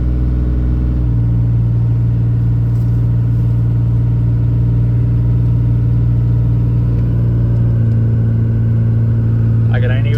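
A heavy truck engine holds a steady, loud, low drone at half throttle while towing a machine of about 12,000 pounds, continuous and unchanging with a strong low hum throughout.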